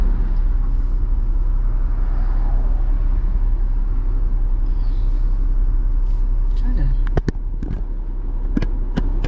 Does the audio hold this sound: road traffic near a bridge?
yes